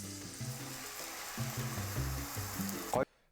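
A steak fries in a pan with a steady, close sizzle running throughout, broken by soft tonal background sounds and ending in a brief louder burst before falling quiet.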